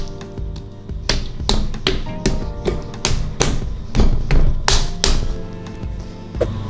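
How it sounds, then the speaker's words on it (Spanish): A lump of clay slapped down onto a pottery wheel head, a series of sharp dull thuds and taps in irregular rhythm, close and fairly loud, with no talking. "lo primero es plantar la pella en el centro de la torneta o lo más centrado posible. Es con un golpe"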